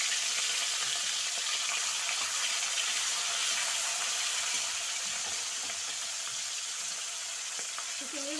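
Prawns and four green chillies sizzle in hot oil in a pan, a steady, loud broadband frying hiss that runs unbroken throughout with no voices.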